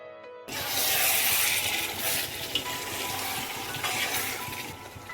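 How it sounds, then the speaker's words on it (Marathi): Ground coconut, onion and mint paste is stirred into a biryani masala base in a pot, a loud, steady wet mixing and sizzling sound that begins abruptly after a brief silence and runs continuously. "याला ना आता मस्तपैकी आपण मिक्स करून घेऊ बघा"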